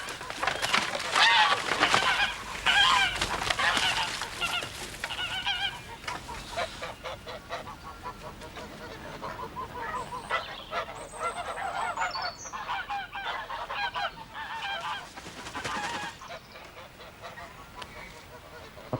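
A flock of geese in a yard honks loudly and continuously, overlapping calls near and busy throughout, with some hissing and squawking mixed in.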